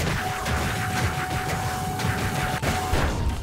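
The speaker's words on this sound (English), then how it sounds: "Oh, that's a big explosion at the end there." Dense, continuous combat noise from the Crafty Survivors video game, with rumbling blasts and rapid crackling impacts building into an explosion, loud and unbroken with no talk.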